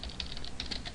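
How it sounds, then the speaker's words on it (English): A computer keyboard clatters with quick, close keystrokes in an irregular burst of about a second, no talking. "I need to type this slow before I teach you."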